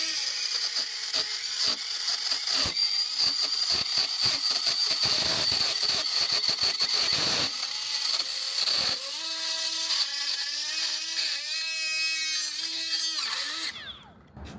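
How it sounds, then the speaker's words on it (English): Milwaukee Gen 2 right angle die grinder (3485-20) on a 4.0 battery, pressed hard under heavy load, whines steadily and loudly up close with gritty rattling and grinding, its tone dipping briefly under strain before cutting off near the end. "Now I'm pressing hard. I'm trying to make this thing stall out."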